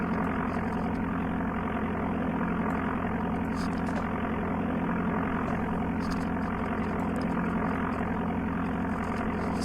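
Steady, unbroken drone of a light aircraft engine in Flight Simulator II on the Amiga, holding a constant tone and level throughout with no pauses.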